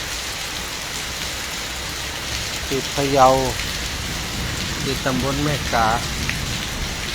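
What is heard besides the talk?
rain falling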